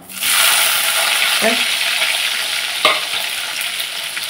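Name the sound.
green chillies and onions frying in a pan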